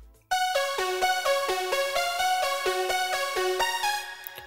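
Dry progressive house synth lead made in FL Studio, with no effects applied: a bright, buzzy melodic line of short, evenly spaced notes in a steady rhythm, loud and alone with no talking.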